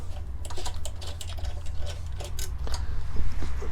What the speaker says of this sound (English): Now I'm removing the screws for the airbox